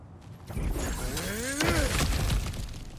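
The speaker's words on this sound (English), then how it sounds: "back to smashing through things for fun and profit" Objects smash and shatter in the video game God of War Ragnarök, a burst of crunching breakage with ringing, tumbling debris over a few seconds, loud and close with game effects layered underneath.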